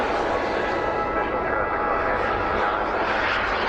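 A Havoc Jet Italian 250 model jet performs at a model air show, its turbine giving a steady, loud, broadband roar that holds unbroken throughout, with no voices audible over it.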